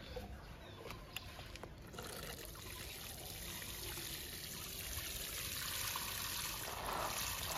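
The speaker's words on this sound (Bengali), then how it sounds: "এর মধ্যে আমরা কিন্তু ভালো মতো গাছে জল দিয়ে দেবো" Water trickles and pours steadily onto the soil of a potted pomegranate plant, a soft, continuous stream that grows slightly fuller toward the end.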